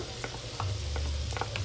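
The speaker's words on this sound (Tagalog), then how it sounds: "Ginadyan ko po yung bawang." Garlic sautéing in a little oil in a pan, a steady close sizzle with soft intermittent clicks of stirring and a low hum underneath, no voices.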